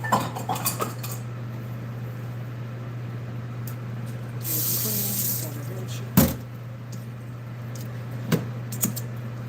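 Cabbage being strained in a kitchen sink, water running in a short hiss amid clinks and clanks of a pot and utensils against metal, with a constant low hum underneath.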